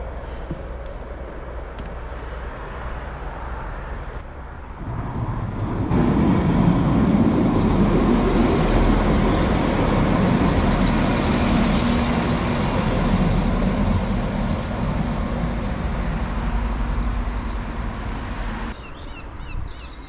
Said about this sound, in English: we've got a train coming through